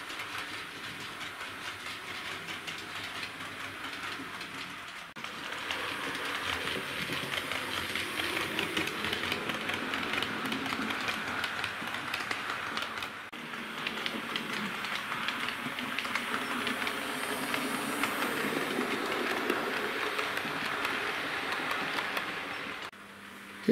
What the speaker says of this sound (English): Here's a panoramic view of this loco running around the war loop